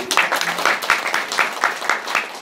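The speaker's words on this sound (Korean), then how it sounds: "박수 한번 주시죠." An audience applauds at a Nutrilite ABO training seminar in Ulsan: steady, dense clapping from a crowd, fairly loud and continuous throughout.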